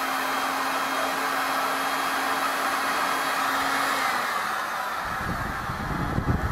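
A heat gun blowing hot air, a steady loud whooshing roar with a faint high whine, with some handling knocks near the end.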